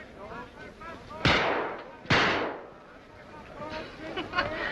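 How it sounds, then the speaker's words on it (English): Two sharp gunshots crack at a carnival-style shooting gallery in a 1940s western, spaced about a second apart and loud against a murmuring background of voices and room noise. "That's nice shooting, mister."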